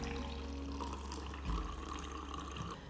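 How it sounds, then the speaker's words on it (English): Carrot water, cold water with shredded carrot, is poured from one glass into another, a steady splashing pour that continues close and fairly loud throughout, with no voices. "then transfer the water in the glass"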